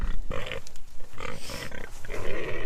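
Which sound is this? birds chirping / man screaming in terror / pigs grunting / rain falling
pigs grunting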